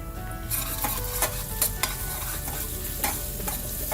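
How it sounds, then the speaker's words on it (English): Turmeric, slit green chili and onions frying in a pan for potato masala dosa filling, stirred with steady sizzling and several sharp scraping clatters of the spoon, close and alone. "Give it a good stir."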